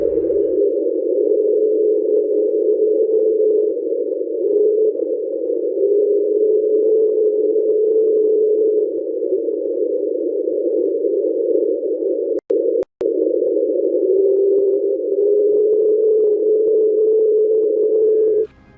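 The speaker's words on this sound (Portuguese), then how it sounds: "esse som provavelmente teve origem em uma enorme montanha de gelo que entrou em contato com o fundo do Mar de Ross, na Antártida" Underwater recording of a huge iceberg grounding against the Ross Sea floor off Antarctica, a loud continuous low droning tone that holds steady for the whole stretch with two very brief dropouts near the end, no voices.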